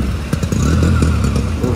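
A motorcycle rolls through a rain-flooded street in CBD Belapur, its engine putting out a loud, close, steady putter with faint sloshing, and no speech.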